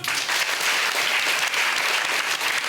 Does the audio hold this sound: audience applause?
yes